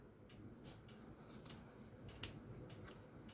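Scissors snip through yarn strands while trimming a tassel, a few faint, light cuts with one sharper snip standing out against quiet room noise.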